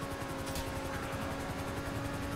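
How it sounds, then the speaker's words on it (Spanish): A helicopter in a roleplay video game gives a steady, faint rotor drone with an even hum and pulsing chop throughout, heard alone with no talking. "¿Por qué viene el helicóptero?"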